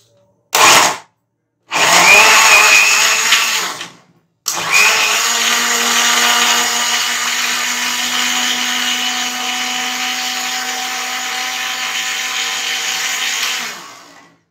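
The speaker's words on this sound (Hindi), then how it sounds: "अब हमने इसको ब्लेंडर में ब्लेंड करना है" A blender blending tomatoes for ketchup runs loudly in short bursts, stopping briefly twice, then whirs steadily for about ten seconds before cutting off.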